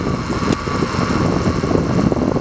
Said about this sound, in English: six cylinder engine it's currently running so you can hear how well it runs